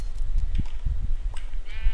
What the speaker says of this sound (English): If I was to go ahead and shear this sheep